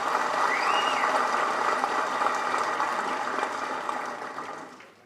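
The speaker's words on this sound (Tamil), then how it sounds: "ஒரு ஒரு கைத்தட்டல் கொடுங்க அவருக்கு" Large audience at a FEFSI 2025 event applauding a speaker at a film workers' gathering, sustained crowded clapping that holds steady, then tapers off and fades out at the end.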